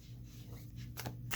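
A deck of oracle cards with a matte finish being riffled, a soft papery rustle followed by two quick bursts of crisp flicking near the end, with a low steady hum underneath.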